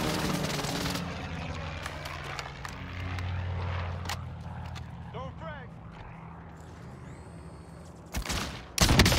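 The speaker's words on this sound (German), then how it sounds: "Allied Precision Airstrike incoming" Precision airstrike gunfire in an online shooter game, bursts of rapid fire and a passing aircraft drone under players' voices and an announcer, with a loud burst closing it.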